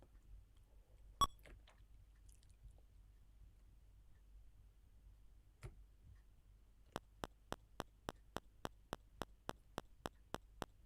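A ZX Spectrum computer emits a regular series of short, sharp beeps, about a dozen evenly spaced, after a few isolated clicks in near silence.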